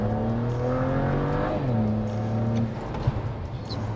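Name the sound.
BMW 335 with ZF6HP transmission accelerating, shifting up through gears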